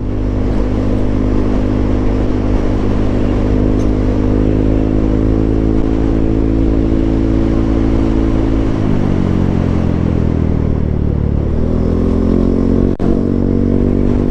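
A motorcycle engine runs loud and close, holding a steady rev before dipping and climbing again near the end, continuous throughout.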